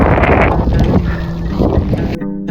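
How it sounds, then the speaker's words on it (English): Strong, steady wind and rain lashing a tent in Iceland, buffeting the fabric close by, a dense rushing roar with flapping, ending abruptly. "I woke to the familiar sound of wind and rain lashing my tent."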